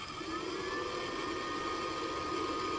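A Redline CNC replacement spindle runs at 1000 RPM, a steady high-pitched whine with a constant tonal hum, close and unbroken throughout.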